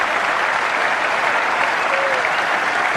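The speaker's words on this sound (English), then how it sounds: "Applause from his team and from that England balcony" Cricket crowd applause at an England versus Australia one-day match, a steady broad patter of clapping from the team and the England balcony, even and continuous throughout.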